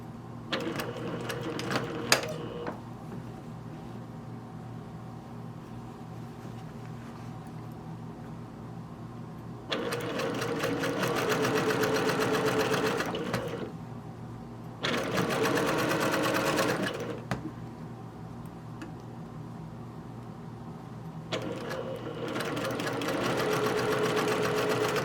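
A sewing machine runs close by, stitching a shirt seam from one point to the next. Its rapid steady whirring comes in several long runs separated by quieter pauses, with no talking.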